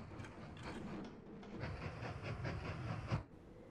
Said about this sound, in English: Oh, I forgot about the other train we just put on.